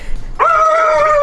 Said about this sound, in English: Keep barking.